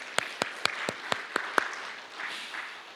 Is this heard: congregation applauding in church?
yes